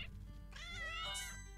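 A drawn-out cat meow from the game Play with Gilbert, a single clear close call over soft continuous game music.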